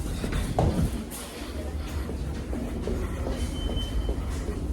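A subway train rumbles along the tracks close by, with steady wheel noise, clattering and faint squeals from the rails, under a constant low roar.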